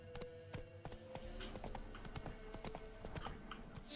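Horse galloping in the game The Witcher 3: Wild Hunt, rapid hoofbeats pounding in a steady, driving rhythm, fairly quiet and close, with no talking over them.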